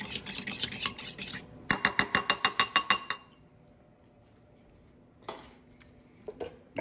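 A spoon stirring a Fireball whisky ice cream mixture in a container, with quick rhythmic clinks and scraping against the sides, close and clear, then a few scattered knocks after a pause.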